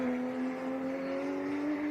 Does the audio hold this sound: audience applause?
no